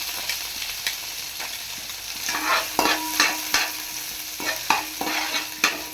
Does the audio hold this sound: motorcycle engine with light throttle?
no